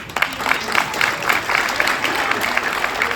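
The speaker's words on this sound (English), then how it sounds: "Yes, he does deserve a warm round of applause" Warm applause from a gala audience at the GOSO Get Out, Stay Out program: steady, dense clapping from a crowd, moderately loud and sustained throughout, with a faint murmur of voices underneath.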